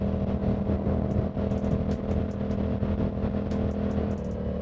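Riding a Yamaha R7 motorcycle in good weather: a steady close engine drone with low humming tones and faint wind, plus scattered clicks and ticks, without talk.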